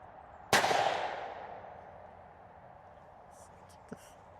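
A single sharp rifle shot from a Tikka T3x Lite in .308 firing copper ammunition cracks out and decays over about a second outdoors, followed by quiet and a faint click.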